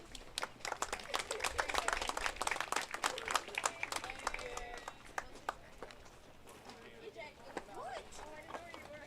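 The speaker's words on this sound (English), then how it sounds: "Please give a round of applause for O'Fallon seniors" Crowd applause and clapping at a high school softball game fill the space, dense and steady at first, then thinning out, with cheers and voices mixed in.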